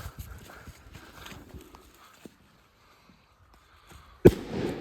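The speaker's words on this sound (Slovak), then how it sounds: "Ale najsilnejšia petarda zatiaľ, čo sme tu mali." One sharp, very loud firecracker blast cracks outdoors at a New Year's Eve setting, arriving abruptly near the end after quiet rustling and footsteps, followed by a brief ringing echo.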